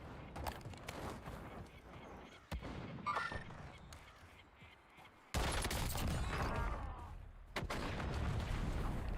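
Enemy gunfire in a shooter video game, scattered sharp shots at moderate distance with a louder burst of firing near the middle, among game ambience and occasional voices.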